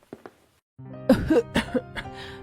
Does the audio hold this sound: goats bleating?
no